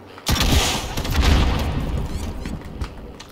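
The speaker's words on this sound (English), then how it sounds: "Who the fuck's shooting me?" Gunfire in the video game Warzone bursts in as a loud volley after a quiet start, rolling booms and rapid shots that then trail off into scattered fainter reports, with little or no talking.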